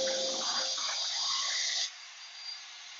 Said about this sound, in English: this is a Bauer brand shop vacuum.